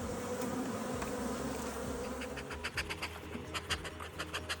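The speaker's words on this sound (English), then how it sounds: "But really good numbers of bees." Honey bees buzz in a dense, steady drone close by at an open hive in late autumn, with individual bees whirring past now and then.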